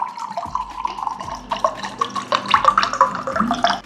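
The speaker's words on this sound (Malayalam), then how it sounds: "നല്ലോണം പതഞ്ഞു പോകുന്ന സോഡ ഒഴിക്കുകയാണ്." Fizzy soda is poured into a glass for a wheat-water drink, producing a close, bubbly pour with irregular splashes and glugs rising and falling in loudness.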